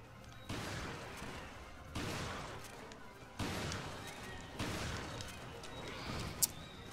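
Shotgun blasts in the video game Resident Evil Revelations, four fairly quiet shots spaced a second or so apart, each trailing off, with a sharp click near the end.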